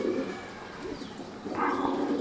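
A clipped-wing pigeon coos nearby in soft, throaty rolling phrases, one low coo running into the next, with a brief higher chirp-like note near the end and no talking.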